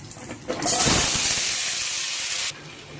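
A loud burst of hissing sizzle erupts as potatoes are added to hot ghee, holds steady for about two seconds, then cuts off abruptly.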